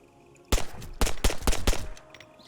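SMG fire in Arma 3, a single sharp shot followed by a rapid string of loud cracks, then quiet.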